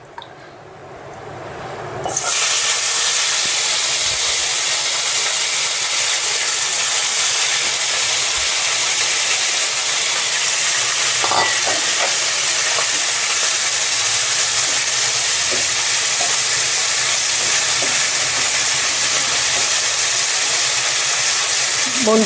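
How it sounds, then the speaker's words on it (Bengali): Puti fish coated in salt and turmeric dropped into hot oil, setting off a sudden loud, dense hiss that holds steady and close from then on. "এবার মাছটাকে ভেজে নেব।"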